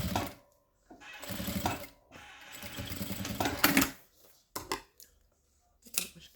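A sewing machine runs in several short stitching bursts of varying length, with brief pauses and small clicks between runs, close and fairly quiet, no speech.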